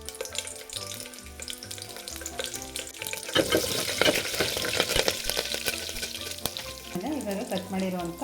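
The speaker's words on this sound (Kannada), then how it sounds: "ಬಿಸಿ ಆದಮೇಲೆ ಇವಾಗ ಸಾಸಿವೆ, ಜೀರಿಗೆ ಎರಡನ್ನೂ ಹಾಕ್ತಾಯಿದ್ದೀನಿ. ಸ್ವಲ್ಪ ಸಿಡಿದ ಮೇಲೆ ಇವಾಗ ಕರಿಬೇವಿನ ಸೊಪ್ಪು ಹಾಕ್ತಾಯಿದ್ದೀನಿ." Mustard seeds, cumin and curry leaves sizzle and crackle in hot oil for a sambar tempering, with a loud, dense frying hiss that swells midway and brief stirring sounds near the end, with no talking.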